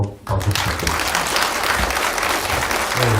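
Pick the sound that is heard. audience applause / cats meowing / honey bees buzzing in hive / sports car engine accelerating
audience applause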